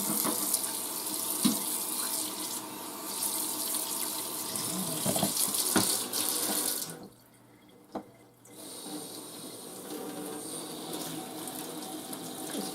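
Hot tap water rinses a used paper towel in a kitchen sink: a steady close rush of running water that briefly cuts off for about a second and a half before resuming.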